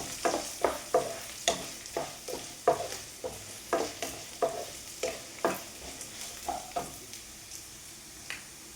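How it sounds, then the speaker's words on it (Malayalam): Dried red chillies with cumin being stirred and fried in a pan, a series of sharp scraping stirs repeating at an irregular rhythm over a faint sizzle, close and fairly quiet, with no voices. "എല്ലാം കൂടി ഒന്ന് മൂക്കട്ടെ, മുരിഞ്ഞ് വരട്ടെ."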